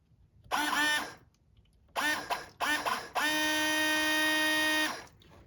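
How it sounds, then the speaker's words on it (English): Toyota Tundra washer fluid pump motor, 2007-2021 type, powered on test leads: a whining electric buzz that runs in three short bursts, then one steady run of about two seconds, loud and close with no talk. "we should see the wash fluid shooting out when we power it"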